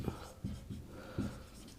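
Pen or chalk writing on a surface during a Class 7 geometry lesson on triangle angles, heard as a few short scratchy strokes in quick bursts, fairly quiet with no talk over them.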